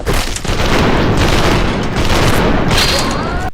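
Rapid pistol gunfire in the shooter game Trepang2, loud booming shots fired in quick bursts that blur into a dense, continuous volley with echoing impacts.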